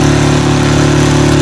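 A Suzuki 6 outboard boat motor runs at a steady, loud drone, close and unbroken throughout, with no voices.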